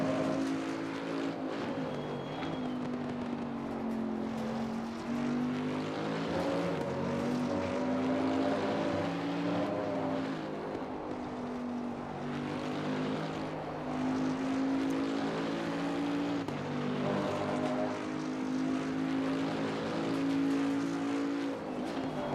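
Bentley GT3 race car in Assetto Corsa Competizione at Kyalami, its engine droning steadily and loud throughout, pitch rising and falling gently through gear changes and corners with no talk over it.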